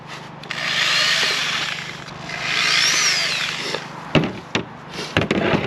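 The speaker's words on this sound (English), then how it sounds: "finish drilling these holes out" A power drill bores holes through Goldstrike rear fender filler strips, two sustained whirring runs of bit cutting into the material, followed by several sharp knocks and clatters as the work is handled.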